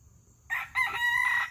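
A game rooster crows on a homestead with one loud, close cock-a-doodle-doo that rises sharply after a quiet start and holds for about a second.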